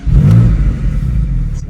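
A 2022 Porsche 718 Boxster GTS with its 4.0 engine fires up, its loud, deep mechanical roar swelling briefly and then settling into a steady, throaty idle close by.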